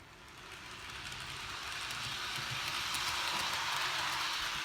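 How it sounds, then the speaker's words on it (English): A model Christmas train runs on a small holiday village layout with a working headlight, giving a steady rolling rumble with faint clickety-clack that builds gradually and stays close throughout, with no talking. "I'll get the train going up again, show off its little headlight it has."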